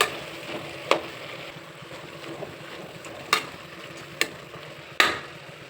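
Ground masala paste for a pulao is stirred and fried in a pan, a soft steady sizzle with several sharp scraping clicks of the spoon against the pan at irregular intervals.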